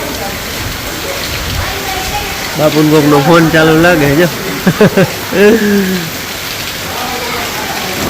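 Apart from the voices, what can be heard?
heavy rain with wind and thunder in a village at night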